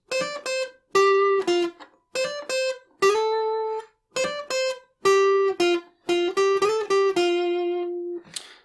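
An electric guitar plays the opening lead line of a song: quick short plucked notes and slides, ending on a longer sustained note, clear and alone.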